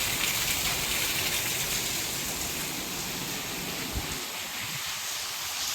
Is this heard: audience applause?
no